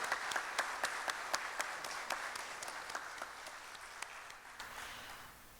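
Audience at a public lecture applauding, steady scattered clapping with sharp individual claps standing out, moderately distant and fading toward the end.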